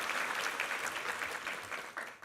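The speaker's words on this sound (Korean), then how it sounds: "우리 이부 성가대에게 한번 감사와 격려의 박수 드리겠습니다" A Korean church congregation claps to thank and encourage the choir: sustained, full applause at a steady level, tapering slightly toward the end.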